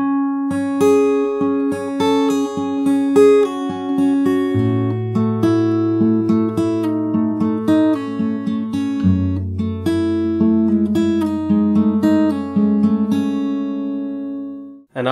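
An acoustic fingerstyle guitar plays an emotional chord progression from its opening, with steady plucked arpeggios over shifting low bass notes for about fifteen seconds, close and clear, ending with a brief scrape.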